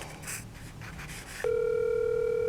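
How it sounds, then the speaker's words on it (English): A telephone call tone switches on partway through, a steady, clear electronic hum held to the end, following a short stretch of quiet rustling room noise. "Let's see if he answers the phone."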